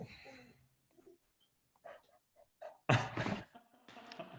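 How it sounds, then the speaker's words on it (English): A pet dog indoors makes faint, scattered whimpers and short yips with quiet gaps between them, ending in a louder burst of vocal sounds. "my dog still wants to be in on the interview"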